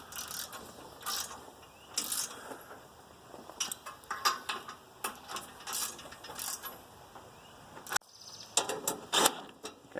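Bolts being snugged down on the mast head of a Wood-Mizer LX-25 sawmill, with a ratchet giving rapid clicking runs in irregular bursts over ten seconds, moderately quiet and close, with no voices.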